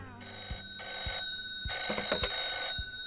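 A telephone rings inside the horror video game Cabaret, a bright electronic bell sounding in three or four repeated bursts against a low background, with a faint voice murmuring briefly between the rings.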